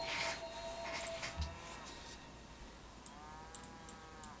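Cattle moo in the Civilization 5 video game, one low drawn-out call followed by a second fainter moo a moment later over soft ambient game sound.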